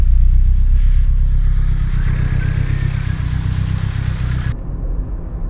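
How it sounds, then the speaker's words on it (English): An old Vauxhall Astra Turbo engine runs at a steady idle, a loud close rumble with light mechanical clatter, cutting off sharply near the end. "How is my old Astra Turbo still there? And running like"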